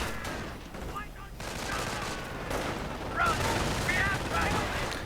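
Gunfire and artillery barrage in a World War II strategy game battle between American and German forces, dense continuous rumble with sharp bursts throughout and louder blasts toward the end.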